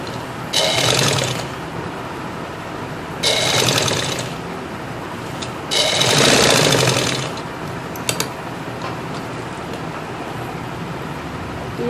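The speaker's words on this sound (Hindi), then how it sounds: "ऐसे यहाँ सिलाई लगा देनी है" A sewing machine stitches fabric for a salwar in three loud, close bursts of rapid whirring, each lasting a second or two, separated by quieter pauses with faint handling noise.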